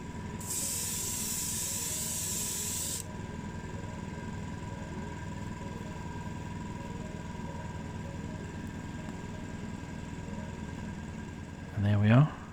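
A spray can lays a second coat of paint on a restored Matchbox Lesney Lincoln Continental toy car, giving a loud steady hiss for about three seconds. A low hum fills the background, and a short knock comes near the end.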